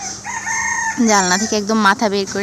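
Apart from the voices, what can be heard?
rooster crowing outdoors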